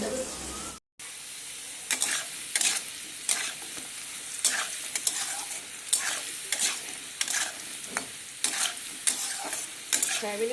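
Potatoes frying in a pan, a soft continuous sizzle broken by regular stirring scrapes every second or so, fairly close and moderately loud, after a brief dropout near the start.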